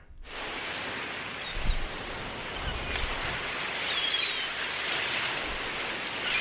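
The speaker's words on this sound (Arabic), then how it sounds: "مفيش غير صوت الموج" Theatre sound effect of sea waves washing on a shore: a steady, full rushing wash that swells gently, with no voices over it.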